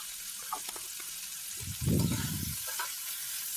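Fat and green jackfruit curry being stirred as it fries in oil, a soft, steady sizzle with scraping strokes that swells into a louder burst of stirring midway before settling back down.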